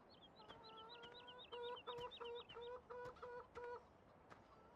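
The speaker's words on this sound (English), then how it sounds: "So just hang out here and play with the chickens." Chickens in Farming Simulator 17 on a dairy farm, clucking in a quick string of short, repeated calls that grows into a busier burst of bright clucks before fading. The calls are faint against a soft background, with no talk.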